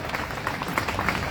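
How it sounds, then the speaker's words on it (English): Crowd applause for Seal at an outdoor Free Palestine rally in Melbourne, a faint, diffuse wash of many hands clapping steadily from a distance. "Big round of applause for Seal, everybody!"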